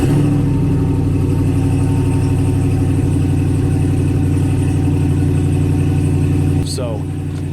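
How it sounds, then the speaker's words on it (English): A Ram Power Wagon pickup's engine runs steadily through an aftermarket exhaust, a loud continuous low rumble that holds even for several seconds, then drops slightly near the end. "It has an aftermarket exhaust on it that sounds perfect"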